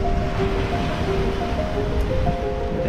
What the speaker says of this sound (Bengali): পাশের ওই জঙ্গলটা, জলগুলো এসে আছাড় খাচ্ছে যেভাবে